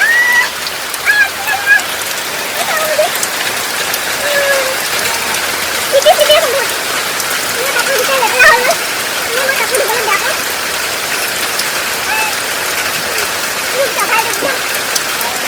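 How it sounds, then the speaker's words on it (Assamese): Rain falls steadily and loudly outdoors for the whole stretch, with faint, scattered bird-like calls and occasional light spatters over the constant wash. "এটা বৰষুণ আহিলে"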